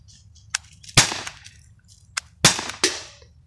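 An air rifle, a modified Crosman Vigilante or T4E TR50, fires sharp cracking shots at a target across a ravine. Several close snaps come in two quick clusters, with faint impact sounds in between.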